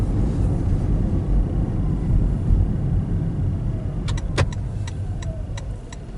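A car drives along a Florida road between Interlachen and Edgar, giving a steady low rumble of engine and tyre noise throughout, with a few sharp clicks near the end.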